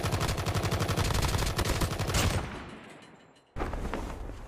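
Rapid automatic gunfire in the Call of Duty Mobile battle royale mode, loud and continuous for over two seconds, fading into a reverberant tail, then another burst resuming abruptly.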